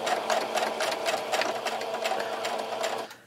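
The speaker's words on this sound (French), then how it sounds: "Et je vais coudre à ce niveau-là." Sewing machine stitching fabric for a homemade face mask, a fast steady rattling hum of the needle running close by for about three seconds before it stops, with no talk.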